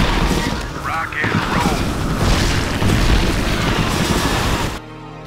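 A rocket explodes in the StarCraft video game, a loud, sustained booming blast with crackling debris that cuts off abruptly near the end, with voices speaking over it.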